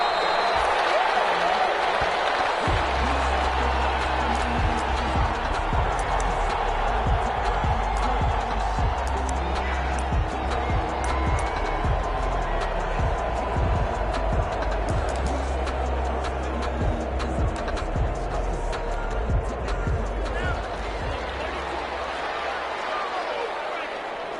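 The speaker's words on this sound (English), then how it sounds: "This crowd is ready as their guys get set to match up between the New York Giants and the New Orleans Saints." Video game American football crowd in a stadium for a New York Giants versus New Orleans Saints match keeps up a steady roar of cheering and clapping throughout, with a commentator talking over it.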